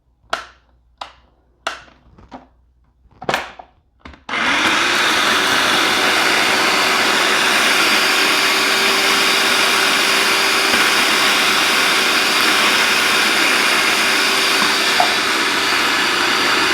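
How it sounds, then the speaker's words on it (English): A few sharp knocks and taps, then a blender mincing onions and garlic whirs on and runs steadily with a loud, even motor drone. "we want to mince up our onions and garlic. So we're going to add it to our blender here."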